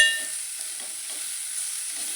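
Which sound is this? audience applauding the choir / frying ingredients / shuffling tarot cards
frying ingredients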